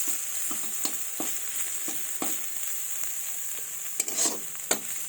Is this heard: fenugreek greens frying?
yes